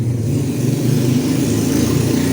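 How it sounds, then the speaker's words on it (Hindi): A loud vehicle passes close behind on a road with a heavy, droning engine rumble. The low growl stays strong and steady throughout, with no voices over it. "अभी जो मेरे पीछे से गाड़ी गुजरी है, मतलब पास से, इतना साउंड है"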